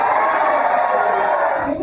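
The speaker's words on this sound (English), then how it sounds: "MAGA Republican Congress member Doug LaMalfa getting booed at his town hall" A town hall crowd boos Congressman Doug LaMalfa, a loud, sustained roar of many voices that holds steady and close for a couple of seconds.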